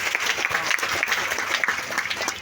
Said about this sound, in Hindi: और उनके लिए ताली होना चाहिए।